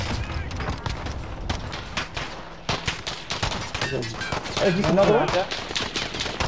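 Rapid gunfire bursts in Call of Duty Warzone, sharp cracks in quick strings with short pauses, punchy and close, while someone talks briefly over the shooting.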